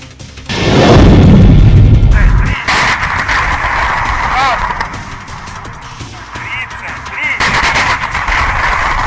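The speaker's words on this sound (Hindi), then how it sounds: "लगातार फायर करते ही है डोनेस्क पीपुल्स रिपब्लिक सेना की सेल्फ प्रोपेल्ड गन, जो यूक्रेन की आबोज आर्मी बेस पर फायर कर रही है" A self-propelled gun of the Donetsk People's Republic forces fires on a Ukrainian army base. A heavy, close boom is followed by sustained loud rumbling and crackling blasts across the whole stretch.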